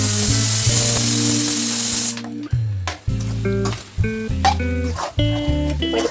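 Chicken fry sizzles in a pan as garam masala goes in, a loud hissing crackle for about two seconds that then cuts away to music.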